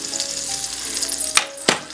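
Pork chops frying in a pan over medium heat, giving a continuous soft sizzle with two sharp clattering bursts of pan handling late on.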